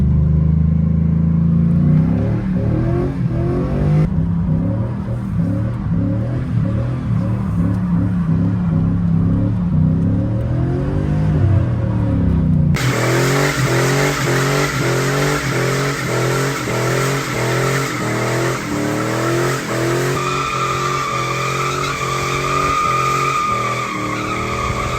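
Cammed 5.3 V8 in a Chevrolet Cateye street truck revving and accelerating, loud rising and falling engine tones with a lumpy cam rhythm, the note jumping louder and harsher midway through, heard up close with no talking.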